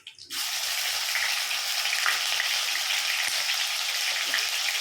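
Curry leaves and ginger-garlic paste hit hot oil in a pan for a ridge gourd (birakay) curry, setting off a close, steady crackling sizzle that starts abruptly after a brief pause and continues alone.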